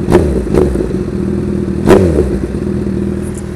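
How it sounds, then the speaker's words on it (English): A motorcycle fitted with an Austin Racing exhaust revs in a few sharp, loud bursts over a steady close idle, with a mechanical clatter underneath. "My Austin Racing exhaust is very hot."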